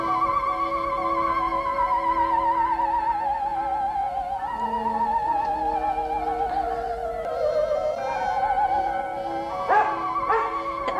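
A dog whimpers and gives short yips over a steady, layered tonal background, the sound continuous and fairly close across the whole stretch, in a 1953 French science-fiction film scene.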